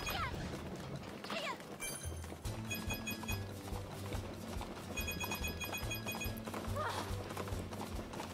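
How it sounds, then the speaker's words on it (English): Rhythmic clip-clop of hooves under game music and electronic tones, steady and mid-distance. "Do I hear a horse?"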